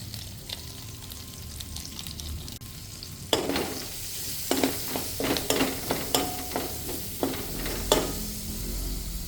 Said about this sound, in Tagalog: Gisa na tayo.